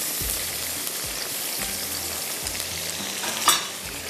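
Boiled rice is stir-fried in a pan, giving a soft constant sizzle broken by repeated scraping stirs and a brief clink of the utensil against the pan.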